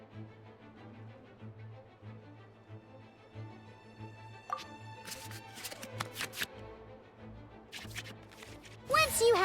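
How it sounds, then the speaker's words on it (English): Card shuffling in the Genius Invokation TCG card game within Genshin Impact, with soft quick swishes and a few sharp sparkly chimes over steady background game music. "we can select any number of cards in our hand to shuffle back into the draw pile"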